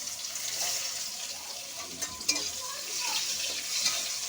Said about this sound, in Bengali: পেস্টটা একটু ভাজা ভাজা করে নেব।